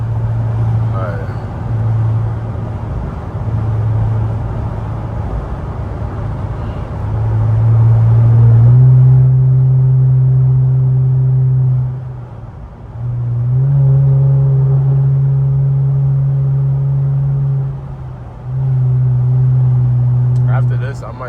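Loud twin turbo Infiniti Q50 driving on roads in upstate New York, a deep droning exhaust rising in surges under acceleration, dropping between pulls and building again, close and steady throughout.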